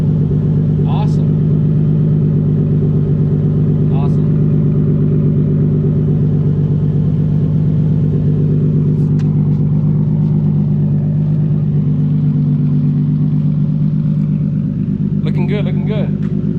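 A car idles through a Tomei Expreme titanium cat-back exhaust, giving a loud, steady low rumble throughout with a few faint clicks and a brief voice near the end.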